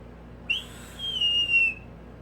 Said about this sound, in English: you get a bad whistle because it's sucking the air in through these small holes on the side